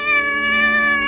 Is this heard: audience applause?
no